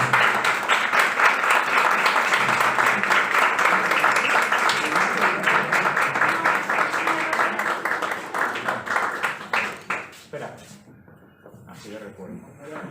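Warm applause for the fallera mayor of Falla Quart at a Fallas sketch presentation in a hall, loud and sustained dense clapping for about ten seconds, then tapering off as a voice starts talking.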